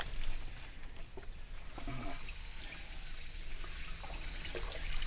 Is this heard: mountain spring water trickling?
yes